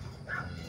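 A pet dog gives a short whimpering yip, one brief high cry rising over a low, steady indoor background.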